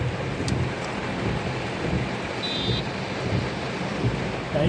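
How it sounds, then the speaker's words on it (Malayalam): Heavy monsoon rain pounds down near the Punalur–Muvattupuzha state highway in a thunderstorm: a dense, loud, unbroken roar of rainfall with low thunder rumbling underneath and no voices. "ഇപ്പോൾ ഒരു മഴയല്ല, 9 മഴയല്ല, അതിൻ്റെ അപ്പുറത്തെ മഴയാണ് പെയ്തുകൊണ്ടിരിക്കുന്നത്"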